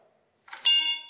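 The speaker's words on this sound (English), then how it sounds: "Alarm module is working." The alarm module on a Sondors Metacycle electric motorcycle sounds as power comes on, a brief rustle followed by a sudden loud, steady electronic tone held alone to the end.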